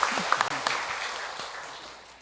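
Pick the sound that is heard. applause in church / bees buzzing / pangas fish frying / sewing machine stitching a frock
applause in church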